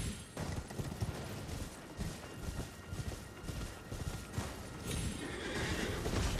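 Horse hooves pounding along a highway in Elden Ring, with a whinny and clip-clop over a steady game soundscape, continuous and fairly loud throughout.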